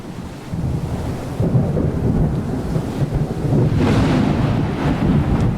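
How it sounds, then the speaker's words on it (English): Thunderstorm at sea in the video game Sail the Seas, a steady roar of rain and wind with low rumbling thunder swelling midway, loud and continuous. "I can't believe I've got to go to sleep in a storm"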